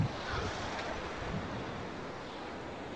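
Sea waves roll onto Suan Son Pradiphat beach in Hua Hin, a steady broadband wash of surf with some wind buffeting the microphone, continuous and fairly loud with no voices.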